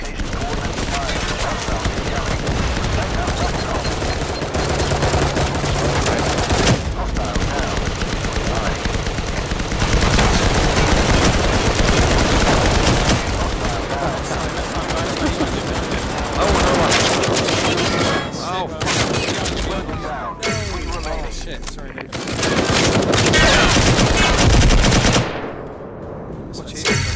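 Dense, sustained gunfire from a chaotic shoot-out in the video game Firewall Zero Hour: rapid automatic bursts and overlapping shots run loud and nearly continuous, with brief lulls and a sharp cut near the end.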